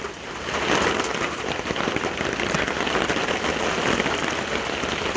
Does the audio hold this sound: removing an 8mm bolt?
no